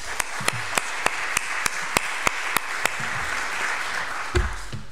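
A conference audience applauds a speaker after a talk, a steady wash of clapping with a series of sharp, regular taps cutting through it, then a low bump near the end.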